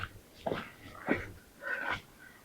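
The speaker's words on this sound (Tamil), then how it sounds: "பயங்கரமாக மூச்சு வாங்குதுங்க" Heavy panting from someone hiking uphill through a forest: three loud, ragged breaths close by, evenly spaced, with no talking.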